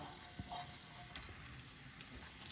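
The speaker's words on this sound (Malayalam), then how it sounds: "അപ്പോൾ അത് രണ്ടും ഇതിലേക്ക് ആഡ് ചെയ്ത് കൊടുക്കുക എന്നിട്ട് നന്നായി മിക്സ് ചെയ്ത് കൊടുക്കുക" Crushed shallots and ginger-garlic paste sizzle steadily in a hot frying pan while being stirred, with a continuous hiss and a few soft scraping knocks of the spoon against the pan.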